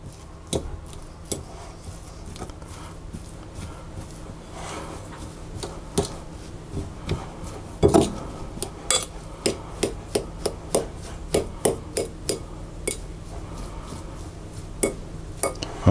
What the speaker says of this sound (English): I'm simply going to roughly, with a fork, roughly mash the potato